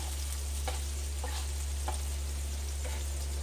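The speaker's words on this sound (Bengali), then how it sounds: "দু মিনিট ভেজে নিয়েছি লঙ্কার গুঁড়ো দিয়ে দিলাম" Steady frying sizzle of tomato and chili powder in a pan, with a few soft stirring scrapes at intervals, close by, over a constant low hum, no talking.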